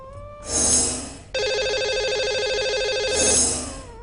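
A telephone rings for a caller phoning in to a radio show, with a steady electronic ringtone pattern that holds for about two seconds and fades in and out at both ends.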